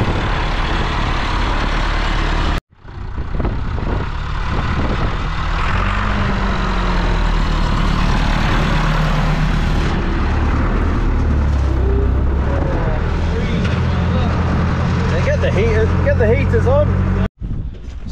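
A tractor engine runs steadily for most of the span, a loud continuous rumble at a coastal crab potting spot, with a person talking over it and brief cut-offs near the start and end.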